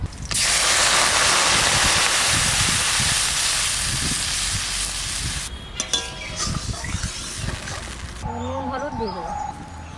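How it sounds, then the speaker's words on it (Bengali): Water poured over fish frying in a hot pan for a river-fish and amaranth-greens curry, giving a loud, steady sizzling hiss that fades after several seconds into softer bubbling and clatter. "মাছের মধ্যে আমি জল দিয়ে দিই"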